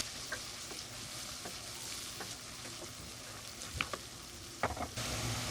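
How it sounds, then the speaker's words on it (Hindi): Sliced onions sizzle and brown gently in hot oil for an egg and potato curry, a soft steady crackle with a few sharper pops and stirring clicks, quiet and without talk. "प्याज को भी हम हल्का सा ब्राउन करेंगे।"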